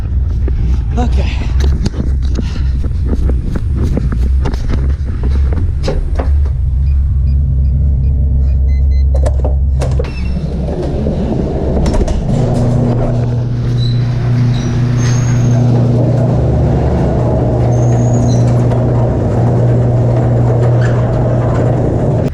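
A restored Foxbody Mustang idling and then creeping slowly on a shakedown run, low rumbling engine tones that rise and hold steady, with people talking over it.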